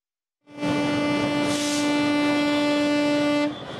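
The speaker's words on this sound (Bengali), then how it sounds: "চিলাহাটি রেল স্টেশনে আবার সীমান্ত পারের হুইসেল বেজে উঠল ৫৫ বছর পর" A train sounds a loud, sustained two-tone whistle at Chilahati railway station on the Bangladesh border in Nilphamari. The close, steady blast holds for about three seconds before cutting off into lower rumble.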